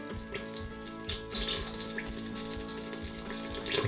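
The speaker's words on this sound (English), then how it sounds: "It's bubbling. It's doing something." Olive oil heats on the saute setting of an Instant Pot, giving a faint, steady sizzling and bubbling with small crackles, close and quiet with no talk.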